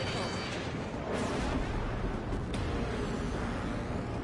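Missile launches and explosive booms in the jet combat game Ace Combat 7, a dense continuous roar of rumbling blasts with a sharp crack near the middle, under game radio voices.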